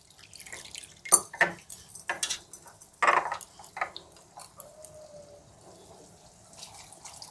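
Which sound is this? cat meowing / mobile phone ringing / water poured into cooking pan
water poured into cooking pan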